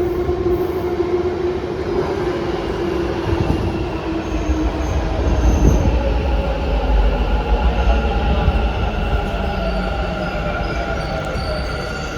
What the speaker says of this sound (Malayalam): പിന്നെ ബാംഗ്ലൂർ മെട്രോ